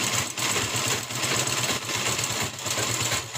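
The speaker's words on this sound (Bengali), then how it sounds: "সাইডটা সেলাই করে নিয়েছি মেশিনে।" Electric sewing machine stitching the four sides of a bag cut from old saree fabric, a steady close mechanical whir with a continuous low hum running without pause.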